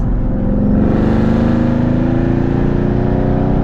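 A 2019 Chevrolet Camaro SS 1LE with longtube headers, cold air intake and custom tuning holds about 2,800 RPM, giving a loud, steady, throbbing exhaust drone heard from inside the car.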